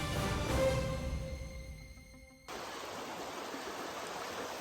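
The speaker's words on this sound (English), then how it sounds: "So here we are at the majestic Surprise River" Water of the Surprise River in Tasmania rushes in a steady, soft wash. It is faint at first under some tonal sounds, then carries on alone as an even roar.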